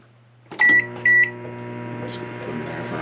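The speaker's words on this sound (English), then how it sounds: "We go to our microwave here." Household microwave oven starting up with two short beeps, then a steady low hum running close by.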